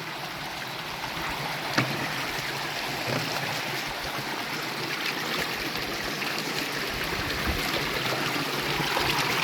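Hands and face washed at an ice-cold village spring in autumn, water splashing and trickling steadily nearby with one brief louder splash early on, no talk.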